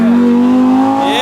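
An Audi R8 fitted with an aftermarket exhaust accelerates hard in a brief, loud, close burst, its engine tone holding steady before climbing sharply at the end.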